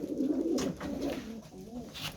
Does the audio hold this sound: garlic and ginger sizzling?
no